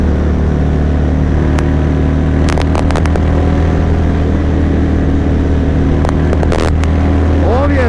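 A 2005 Yamaha MT-01 motorcycle on the move, its steady low engine drone and wind rush running throughout, with a few brief sharp crackles and a rising tone near the end.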